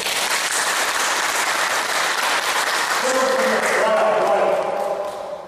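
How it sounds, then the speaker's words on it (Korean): Audience applause during a Buddhist temple dharma talk, a dense wash of clapping from a seated crowd that holds steady throughout, with a voice speaking over it toward the end. "박수 한번 쳐줘요"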